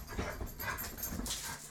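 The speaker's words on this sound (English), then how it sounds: "I don't know if you guys can hear my dogs fighting. Or playing, rather." A cattle dog and a Labrador play nearby, with brief panting, huffs and a small whimper in a short burst of scuffling dog noise.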